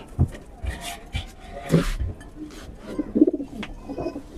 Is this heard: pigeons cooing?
yes